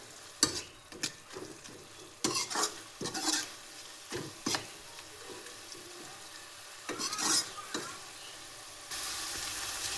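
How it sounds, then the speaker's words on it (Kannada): Palak spinach frying and being stirred in a pan, with repeated bursts of sizzle and scraping strokes at an uneven rhythm, close and moderately loud, with no voice. "ಸೊ ಅಲ್ಲಿವರೆಗೂ ಫ್ರೈ ಮಾಡ್ಕೊಳ್ಳಿ."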